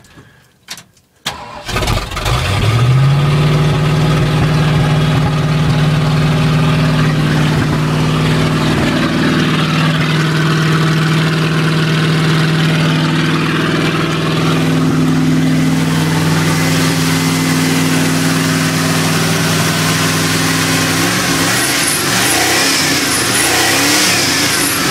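A straight-piped 400 big-block V8 in a 1978 Ford F100 custom truck cranks briefly, catches and roars to life, then holds a loud, close, rumbling rev with rising and falling throttle.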